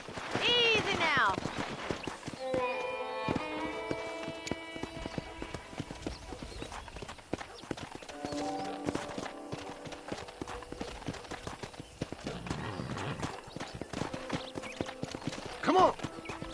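Horse hooves clip-clop on the ground in the video game Red Dead Redemption, a steady walking rhythm under someone talking, with a brief neigh early on.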